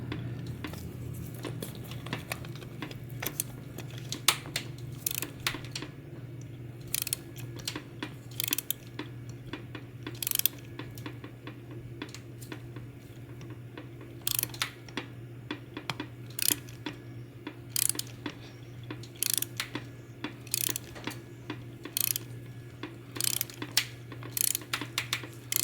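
A rusty bolt is worked through aluminum on a DIY generator, producing repeated ratcheting clicks and short grinding bursts in an uneven rhythm, close and moderate over a steady low hum, with no talk.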